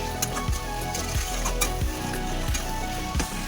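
Mutton curry with tomato sizzles and fries in a pot, a steady loud hiss punctuated by rhythmic scraping stirs roughly every half second, with no talking.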